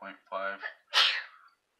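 A single sharp sneeze bursts out right after a stretch of nearby talking, loud and close, then quickly fades to silence.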